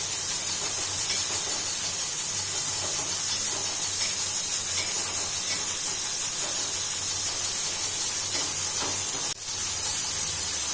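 Coconut dry-roasting in a pan for homemade Khandeshi masala gives off a steady, loud, broad sizzling hiss that continues unbroken, with one brief dip near the end.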